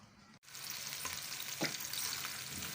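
Onions sautéing in hot oil for a curry pakora masala, a close, continuous sizzle and crackle with occasional stirring scrapes and pops, quiet overall.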